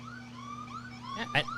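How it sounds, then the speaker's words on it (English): Sirens sound outdoors during a talk recording, a faint wailing tone gliding up and down in the distance, with steady low hum and brief louder bursts near the end. "Those sirens couldn't have been better timed."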